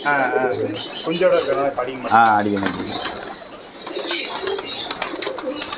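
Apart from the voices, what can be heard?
pigeons cooing at a bird farm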